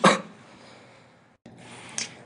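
A person with a cold gives a sharp, fairly close cough at the very start, then a quieter stretch of room noise and a second short burst near the end.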